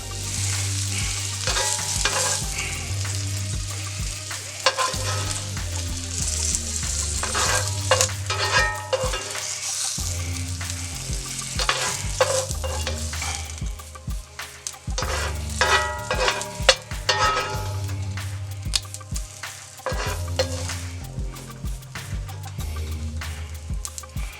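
Ham fries in a skillet with a continuous close sizzle and crackle, punctuated by scraping stirs and occasional clicks, steady throughout with no speech.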